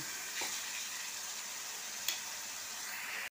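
Egg curry masala with salt and a little sugar being stir-fried in oil, a steady close sizzle with a couple of faint scraping strokes from the spoon and one sharp tap near the middle.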